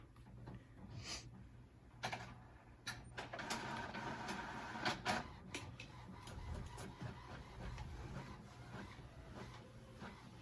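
An inkjet printer works through a print-and-cut job for a Cricut, giving off a quiet run of mechanical whirring, shuttling passes and clicks, with no voices.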